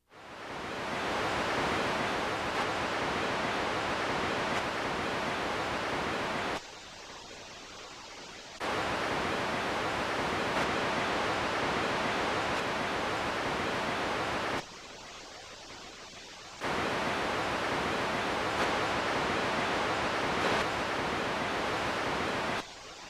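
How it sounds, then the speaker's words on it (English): Steady broadband pink-noise test signal from a 1993 home theatre setup tape, used to balance Pro Logic surround channels; loud bursts of hiss roughly six seconds long, each followed by a brief quieter gap, with no talking. "This signal is just like the test signal of your Pro Logic decoder."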